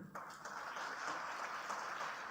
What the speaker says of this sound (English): Please applause for yourself